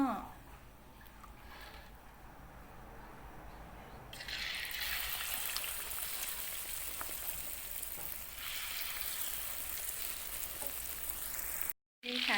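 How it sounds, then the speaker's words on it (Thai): Battered shrimp deep-frying in hot oil, a faint bubbling at first that swells into a loud, steady hiss and crackle when the shrimp go in, continuing close and unbroken. "ระหว่างการทอดก็ประมาณนี้เลย"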